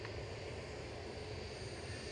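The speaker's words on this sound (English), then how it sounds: "So HLYH departed to Geneva now with an A321 Neo delivered in November of last year" An Airbus A321neo departs Manchester for Geneva, its engines a steady, distant broadband roar holding level and alone through the short stretch.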